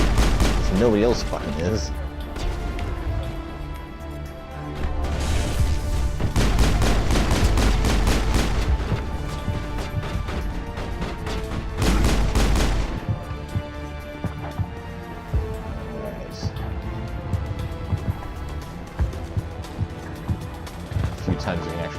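Repeated gunfire bursts from the Mass Effect video game, with rapid automatic volleys and heavy booms crowding the middle of the stretch, loud and close, while someone talks over the shooting.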